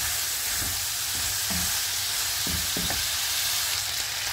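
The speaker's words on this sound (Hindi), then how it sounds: "इसको फिर अच्छी तरह से फ्राई कर लेंगे।" Ingredients for a pasta dish sizzle steadily in a pan, a continuous loud frying hiss with a few soft stirring knocks from a spoon, and no voice.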